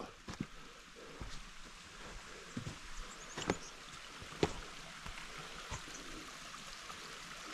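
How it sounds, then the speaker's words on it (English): Steady, soft rush of flowing water from a small stream, with a few faint knocks and splashes nearby. "Might refill my water bottles here since there's good running water."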